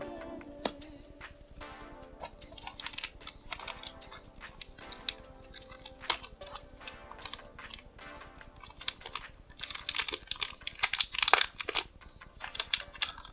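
Force of Will trading card booster packs being torn open: close, crisp foil crinkling and ripping in irregular bursts, growing busier and louder toward the end, with no voices.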